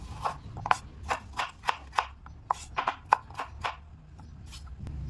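Steady rhythmic knife chops slicing a carrot into rounds on a cutting board, about a dozen crisp slices evenly spaced, close and clear with no talking.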